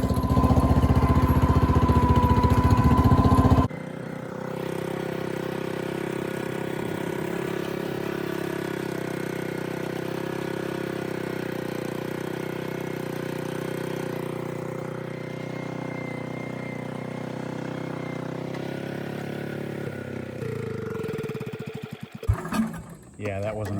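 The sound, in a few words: Power King tractor engine pulling trailer of top soil uphill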